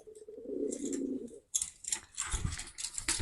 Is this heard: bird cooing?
yes